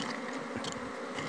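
Bees buzz steadily and close at hand while a hive is opened in a chapadeiro-bloom honey area, a continuous insect drone filling the short moment with no voices.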